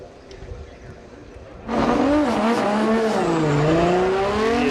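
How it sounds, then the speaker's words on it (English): A Nissan S15 Silvia drift car on track at Okayama International Circuit in qualifying, its engine suddenly revving loud and close with rising and falling whine over a faint background. "Yuichi Amagai, driving the Good Ride Motorsports with perfect style, S15 Silvia"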